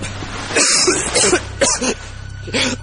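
A few harsh coughs in short bursts, close and loud, with a throat-clearing quality and brief pauses between them, coughing up blood.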